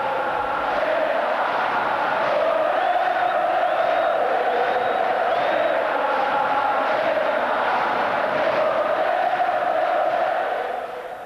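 A large stadium crowd at the Grand Prix cheers and roars for Ayrton Senna, a dense sustained wall of voices with faint high whistles, heard from a distance and fading at the end.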